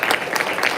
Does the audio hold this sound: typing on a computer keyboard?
no